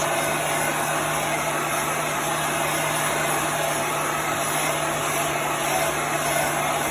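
A heat gun blows steadily to dry chalk paste on a farmhouse kitchen sign, a loud continuous whooshing roar with a constant electric whine, unbroken from start to finish.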